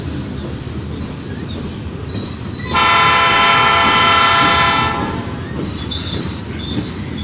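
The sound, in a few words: Canadian National 9638 freight train passing, locomotive chuffing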